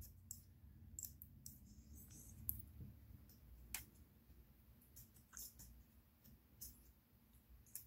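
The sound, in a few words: lock mechanism click while dialing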